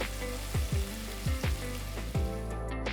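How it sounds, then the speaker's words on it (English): Chopped tomato frying in a pan with onions and garlic paste masala for an Andhra Gongura prawn curry, a steady close sizzle broken by several louder bursts as the mixture is stirred. "add 1 small tomato finely chopped and cook for about 2 minutes until the tomatoes soften and"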